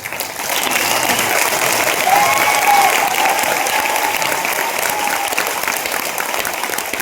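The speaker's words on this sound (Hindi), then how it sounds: "तालियां पता है आपने बजाई जबरदस्ती" A large audience applauds loudly and steadily, a dense wash of clapping that holds for several seconds without letting up.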